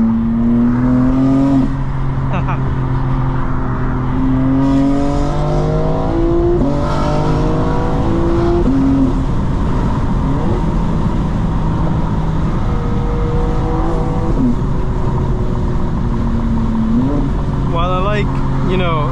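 A 2025 BMW M4 Competition xDrive engine during spirited driving, heard from inside the cabin as it revs up repeatedly through the gears with rising and falling pitch and shift breaks, with a person talking over it.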